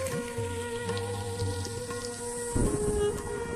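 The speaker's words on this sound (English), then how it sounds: "The annual rains bring a deluge that in a matter of weeks will turn the sepia landscape emerald green." Monsoon rain falling in India, a steady patter of drops on surfaces over a droning tonal background, growing heavier near the end.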